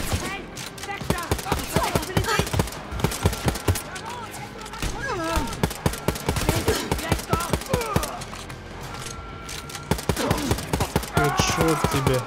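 Rapid gunfire in the shooter game Wolfenstein: Youngblood, loud bursts of automatic weapon fire and sharp single shots in quick succession, with a player talking at points over the shooting.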